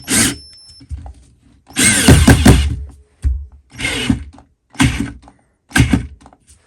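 A Parkside 12V cordless angle drill driver strains against a 6x80mm screw in short, loud bursts, separated by brief silences, each stalling with a thunk as the chuck locks up.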